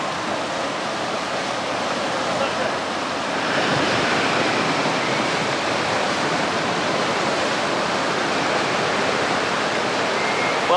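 Rushing water from the river rapids raft ride at Six Flags Great Escape, a dense steady roar of churning water that swells slightly louder partway through and continues unbroken, with no voices.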